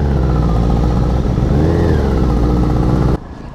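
A Suzuki Bandit 600 motorcycle exhaust revs loud and close, the engine note rising and falling steadily before cutting abruptly to a lower idle.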